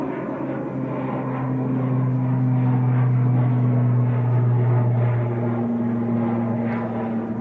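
Aer Lingus ATR turboprop at Manchester Airport, a loud close propeller drone with strong steady low hums and a broad engine rumble that holds throughout with only slight shifts in pitch.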